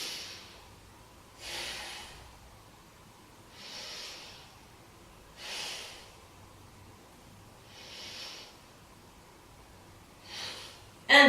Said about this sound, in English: Let's take 3 big breaths here.